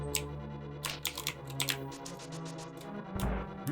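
Computer keyboard keys tapped in short irregular bursts while playing Zelda: A Link to the Past, close and fairly crisp clicks over a steady low game-music drone, with a heavier thump near the end.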